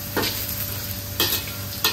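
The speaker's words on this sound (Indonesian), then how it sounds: "Ini memang saya goreng berasingan supaya dia tidak pecah" Pork luncheon meat fries in a pan, with a steady close-up sizzle and three brief scraping stirs spaced through it, and no talk.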